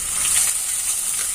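Crushed ginger and garlic tempering in hot oil while cooking a vegetable momo filling, a bright, steady hiss and sizzle with no other sounds.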